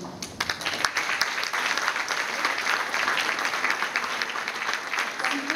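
Audience applause at a municipal swearing-in ceremony, steady dense clapping from a seated crowd sustained throughout, fairly loud and unbroken, with a few sharper claps near the start.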